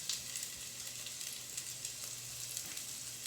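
Thinly sliced fennel bulb and garlic cloves sizzle steadily in a hot pan, a continuous close frying hiss with small crackles throughout and no voices.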